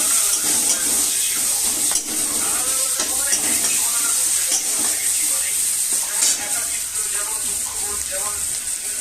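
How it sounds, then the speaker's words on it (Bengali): Onions frying in a pan for a Bengali doi rui fish dish, a steady bright sizzle with faint stirring clatter running throughout, close and fairly loud, with no talk over it. "এরপরে পেঁয়াজ দিলাম, পেঁয়াজটা ভেজে নেবো।"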